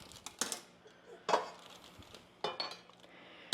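Cake mix and other ingredients clatter into a metal mixer bowl, a few sharp clinks and knocks spaced out over a few seconds, close and fairly quiet.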